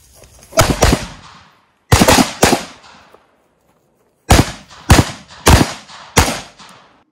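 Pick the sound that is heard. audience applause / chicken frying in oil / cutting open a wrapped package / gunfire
gunfire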